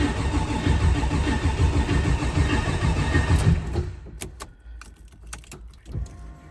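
An 800+ horsepower car engine cranks and fires on a cold day, a loud sustained roar for several seconds that cuts off abruptly, followed by sparse clicks and clatter at close range.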